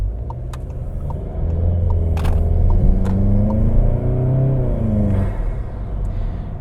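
A VW GTI Mk7 fitted with an APR open carbon intake rumbles close by as the engine revs up and eases off. A rising turbo whine and whooshing spool ride over the deep exhaust drone, with a few sharp clicks and pops in between.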